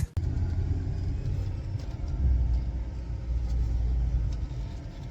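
A car idles and creeps along in heavy highway traffic, a steady low rumble from the engine and road filling the space, with a brief thump at the start and mild swells in loudness.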